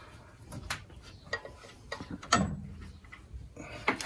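A wrench ratchets on the bolts of a 1940 Mercedes barn find, with irregular close mechanical clicks and metallic knocks interspersed with rustling, moderately loud with no talk.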